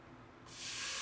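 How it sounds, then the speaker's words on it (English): Water poured into a smoking-hot pot for parboiled rice bursts into a loud, steady sizzling hiss that jumps up abruptly and holds, close and alone. "the nice sizzling sound of it"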